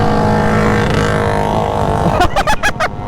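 A vintage car drives on without slowing, its engine giving a steady, close, droning rumble before a few short, sharp bursts of sound near the end.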